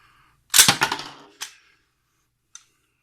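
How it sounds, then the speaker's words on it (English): A Glock 20 10mm pistol being cleared: a close, sharp burst of metallic clacks as the slide is racked, then a single lighter click about a second later and one more small tick near the end. "This is a Glock 20 10 millimeter. We're going to clear this one."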